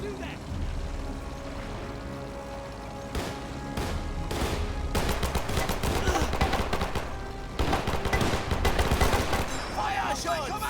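Gunfire in the Men of War 2 strategy game, scattered shots building into dense volleys over a steady battle rumble, with someone talking over the action.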